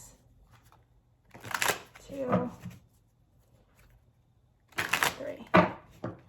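Tarot cards are shuffled in two quick bursts of riffling flutter, close and crisp, separated by a quiet pause, with a voice counting briefly between them.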